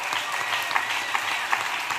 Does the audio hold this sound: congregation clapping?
yes